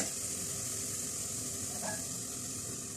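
Chopped onions frying in hot oil until light golden, as the base for a chicken korma, give a steady, close sizzle and hiss throughout with no one speaking.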